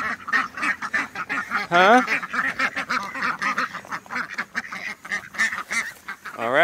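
Several hungry ducks, including a molting drake, quack and honk close by in a dense, overlapping chorus, with a brief human voice in between.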